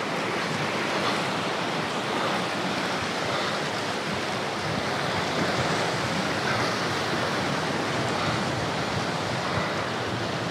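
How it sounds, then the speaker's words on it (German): Ocean waves on a hidden island beach, a constant loud broadband wash of surf with some wind noise, steady and unbroken, no voices. "Ein geheimer Strand, Leute."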